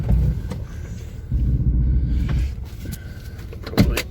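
Power windows of a Chevy S10 Blazer under repair, an electric motor whirring in a couple of low humming runs with short pauses, ending in a thump as the glass stops, close by.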